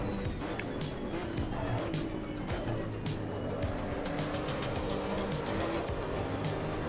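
A Maserati race car in Assetto Corsa EVO drives on, engine droning continuously with rising and falling pitch and faint tire noise, a voice talking over it throughout.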